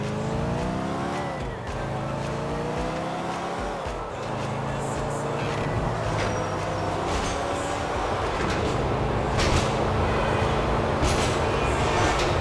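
A train in Grand Theft Auto IV rumbles loudly and continuously for several seconds, with sliding pitched whines, metallic screeches and clattering over a dense roar.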